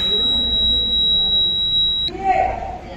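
A bus overload alarm buzzer sounds a steady high-pitched electronic tone continuously for about two seconds, then cuts off abruptly, leaving background noise and faint voices.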